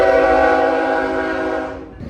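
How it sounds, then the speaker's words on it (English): A train passing near an RV campsite sounds a loud, sustained horn blast that holds for about two seconds and then cuts off abruptly, very close. "it sounded like the train was coming through like on our street"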